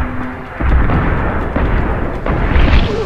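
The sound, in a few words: boss shooting at player, Deus Ex Human Revolution video game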